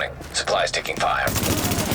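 Gunfire in The Division video game: a burst of machine-gun and rifle shots erupts at close range and keeps rattling steadily, after a short stretch of voice-like game chatter.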